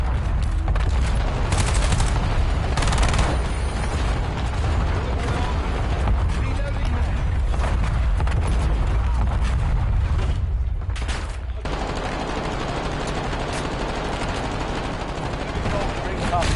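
Gunfire in the video game Call of Duty: sustained, loud automatic fire and booms under in-game radio chatter and shouted callouts, with a brief lull near the end.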